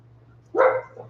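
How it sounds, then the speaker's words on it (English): One sharp, loud dog bark close by, rising suddenly after a quiet stretch with a low steady hum beneath, then fading into a brief softer tail. "dog's going crazy."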